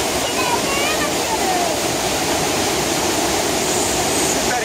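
A waterfall in Düzce, Turkey roars in a steady, dense rush of falling water close by, with faint chirps or whistles over it and no clear speech.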